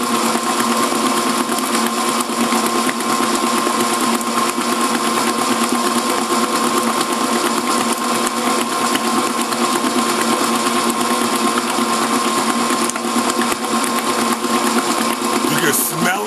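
An electric mixer whips shea butter into a soufflé with a loud, steady, high-pitched motor whine that runs without a break, close by.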